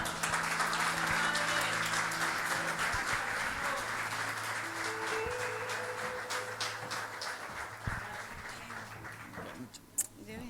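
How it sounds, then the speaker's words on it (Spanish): A church congregation applauds two visiting pastors, steady crowd clapping that fills the room and gradually thins, with a soft tonal hum beneath and a sharp knock near the end. "Recibimos a los pastores David y María con un aplauso."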